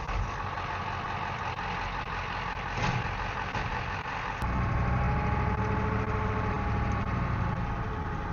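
A potato truck's engine idles steadily on a farm field during sweet corn harvest, a continuous low rumble that deepens and grows slightly louder partway through, with no talking.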